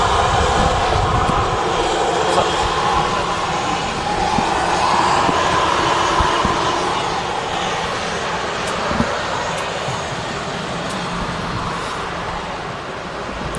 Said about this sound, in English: the Jet2 A321 heading off to Heraklion down in Greece